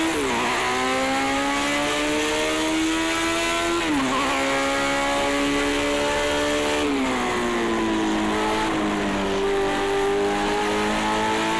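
A Formula One ground-effect car laps a circuit in a racing game, its engine a continuous high-pitched whine that climbs through the revs, drops sharply on each gear change or braking point, then builds again, loud and steady throughout.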